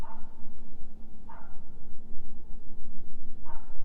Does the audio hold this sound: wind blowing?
no